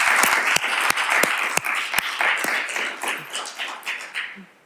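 An audience at the Acton School Committee candidates forum applauds steadily, a dense, close wash of clapping with a few sharper individual claps, fading slightly toward the end.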